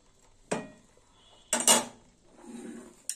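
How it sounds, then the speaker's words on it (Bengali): A pot of cooked bottle gourd is lifted off the stove, with three separate metallic clanks and scrapes of cookware close by in an otherwise quiet kitchen. "এবার লাউটা আমি নামিয়ে নেব।"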